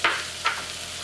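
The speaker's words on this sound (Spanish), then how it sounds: "Ya se derritió la mantequilla, añadimos la harina y vamos a formar una pastita." Melted butter and flour hiss steadily in a pan, with two quick scraping strokes of a spoon, close and fairly loud, no voices.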